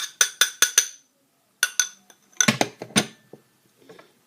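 A utensil scrapes chocolate microwave-cake mixture out of a bowl into a small heart-shaped pot, making a run of quick close clinks, then a pause and more scraping taps that trail off.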